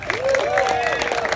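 A brief burst of clapping from a crowd at a mud volleyball tournament check presentation for a breast cancer charity, fairly close, with a voice calling out over it.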